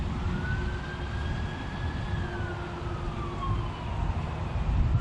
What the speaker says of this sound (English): I hear a siren coming down the highway.